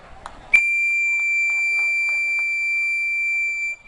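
A sustained, steady high-pitched Emergency Broadcast System test tone sounds for about three seconds after a brief opening noise, loud and unbroken.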